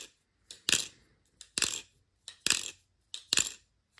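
An Armed Shark Nautilus V2 clone shaken hard gives a close, crisp metallic rattle, arriving in four evenly spaced double bursts with silence between them.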